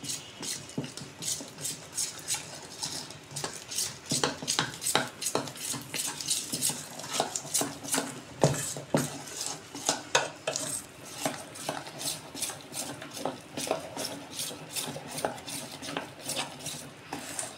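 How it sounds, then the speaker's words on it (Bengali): A spoon whisks gram-flour batter with water and turmeric for eggplant fritters, its quick rhythmic clinks and scrapes against the bowl running continuously, close and fairly loud, with no talking. "এবার জল দিয়ে আমি ব্যাটারটা রেডি করে নিচ্ছি। প্রথমে একটু চামচ দিয়েই আগে করে নিচ্ছি"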